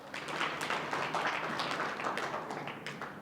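Applause from an audience at a Buddhist vihara cultural gathering in Amravati, a steady patter of hand claps at moderate level lasting a few seconds with no talk over it.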